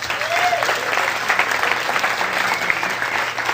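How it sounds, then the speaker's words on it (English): Applause from a seminar audience as a volunteer comes up for a hypnosis demonstration, thick sustained clapping at an even, fairly loud level with a few brief voices underneath. "Give him a round of applause."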